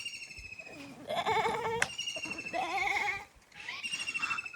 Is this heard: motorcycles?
no